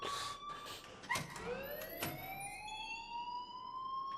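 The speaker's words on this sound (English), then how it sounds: "please turn off that alarm since that's your job" A school fire alarm in the video game Life is Strange rings with sustained, piercing electronic tones that sweep upward and hold, loud and continuous with a couple of brief knocks mixed in, no speech.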